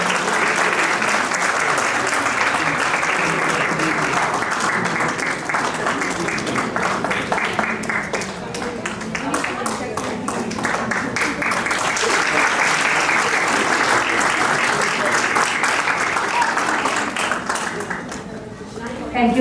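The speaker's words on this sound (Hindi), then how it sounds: "जोर से तालियां बजती रहनी चाहिए।" An audience at a play school's annual day applauds loudly and continuously for nearly twenty seconds, with a dense wash of clapping, crowd voices mixed in and a brief tapering near the end.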